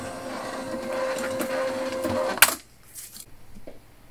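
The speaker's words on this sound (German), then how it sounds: "hier direkt mit unserem Drucker mich zu verbinden und Versandetikett zu drucken" A shipping-label printer runs with a steady mechanical whir and a sustained tone, ending in a sharp click or tear, after which the room goes quieter.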